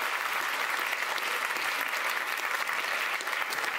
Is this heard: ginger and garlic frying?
no